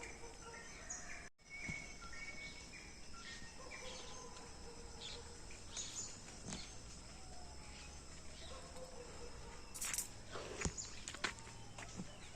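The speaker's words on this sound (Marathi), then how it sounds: "तुम्ही ऐकू शकता पक्ष्यांचे आवाज" Morning birdsong in a village during a walk: scattered chirps and short calls, some near and some farther off, over a steady bed of insect-like buzzing, with a few soft rustles or footsteps and no talking.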